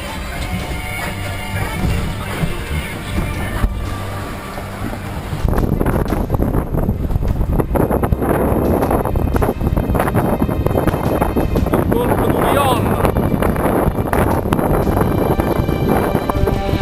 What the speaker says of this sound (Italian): Ora il vento è un po' sceso e anche l'onda.